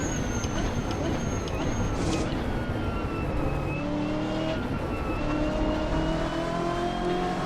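A race car engine in the Assetto Corsa sim at Road Atlanta screams steadily through gear changes at high revs, with rising and falling whine tones as another slower class car is approached.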